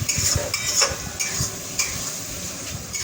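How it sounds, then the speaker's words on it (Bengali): Food being sautéed and stirred in a pan for a Sunday home-cooked meal, a spoon scraping and clacking in quick uneven strokes over a soft steady sizzle, close and alone. "তো এটা মা আমাকে কষতে দিল, তো আমি এই যে কষছি।"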